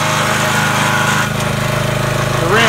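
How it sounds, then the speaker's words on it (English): A 25-ton hydraulic log splitter working cherry firewood gives a steady, loud engine drone with a faint rhythmic chug, continuous and close throughout. "This splitter works pretty good."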